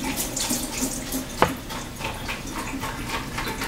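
Water runs steadily from a tap, splashing softly as cilantro is rinsed beneath it, with a brief light knock partway through.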